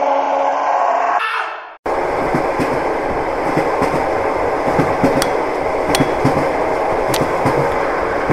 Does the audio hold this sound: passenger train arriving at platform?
yes